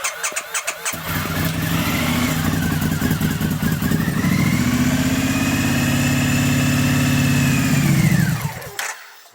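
Triumph motorcycle engine with a diesel-contaminated tank, fed carb cleaner: a few cranking bursts, then it catches and runs at a steady rising idle for several seconds before cutting out abruptly.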